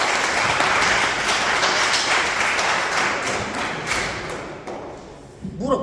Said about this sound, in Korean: 박수 한번 칠까요?